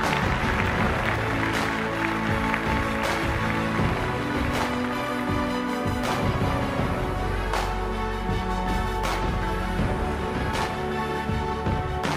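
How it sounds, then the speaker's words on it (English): A quinceañera audience in a Houston reception hall breaks into sustained applause, steady dense clapping filling the room for several seconds, with music-like tones running underneath. "Round of applause, round of applause."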